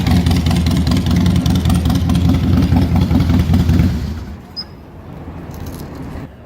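A 2003 Harley-Davidson Softail Deuce Screaming Eagle motorcycle idles with a loud, low rumbling throb for about four seconds, then drops off to a quieter, fading engine murmur.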